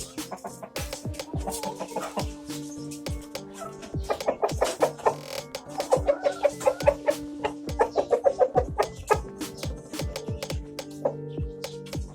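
A Black Australorp hen weighing about 2.8 kilos clucks in a yard, a run of short repeated clucks and sharp calls, close and moderately loud, with no talking over it.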